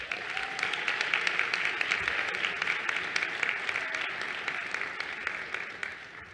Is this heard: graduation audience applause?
yes